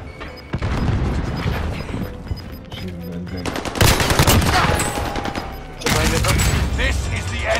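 Close gunfire bursts and explosive booms in a Call of Duty: Modern Warfare Rebirth duos battle royale match, with a frag grenade blast among rapid automatic fire that comes in dense volleys, while players talk over it.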